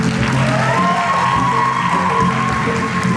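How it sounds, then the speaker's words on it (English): Steady, dense audience applause and cheering with a few whoops at a family and friends dance recital, loud and continuous with no pauses. "Give them a round of applause."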